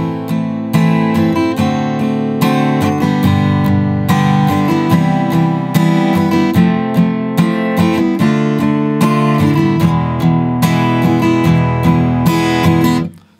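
Steel-string acoustic guitar in standard tuning plays the intro of a song, strummed chords with a steady rhythmic pulse, close and full, alone with no talking, ending with a final strum.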